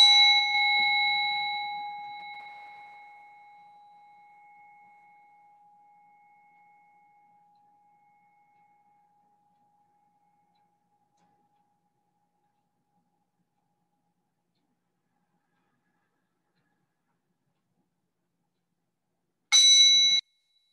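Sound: bell rung during a yoga session

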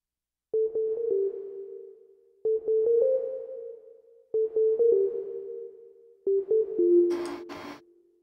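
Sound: melodic track from Akai S3200 sampler with built-in reverb

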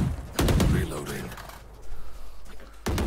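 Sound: gunfire in a video game

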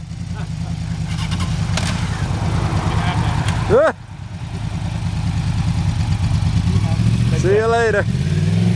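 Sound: motorcycle engine starting and revving

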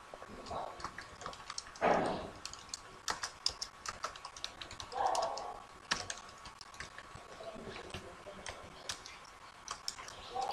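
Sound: typing code on a computer keyboard

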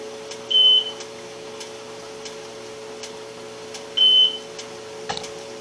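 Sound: kitchen timer beeping while dry canning potatoes

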